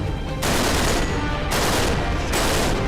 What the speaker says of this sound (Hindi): जो भी गोली चला रहा है ना, आ जाओ आगे।